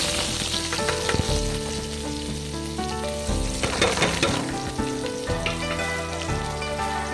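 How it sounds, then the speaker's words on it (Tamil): Onions frying in oil with mustard seeds and curry leaves for a soybean fry, a steady loud sizzle with crackling pops and the occasional scrape of a stirring spoon, with no talk. "நல்லா ஃப்ரை ஆகணும், நல்லா வதங்கி வரணும்"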